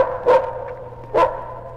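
Two sharp, close wolf barks about a second apart, each a short gruff burst standing out over a faint steady background hum.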